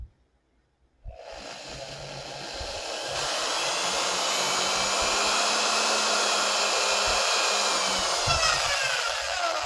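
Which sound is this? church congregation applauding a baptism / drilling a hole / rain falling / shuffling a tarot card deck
drilling a hole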